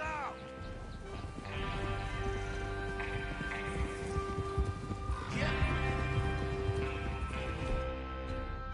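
Horses galloping in the Western video game Red Dead Redemption 2, a steady rolling patter of hooves under a continuous music score and game ambience, with occasional snorts.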